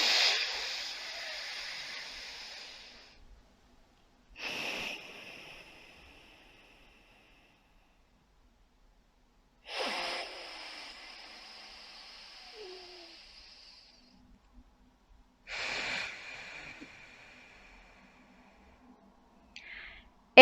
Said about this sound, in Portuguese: vou começar a minha respiração intercalada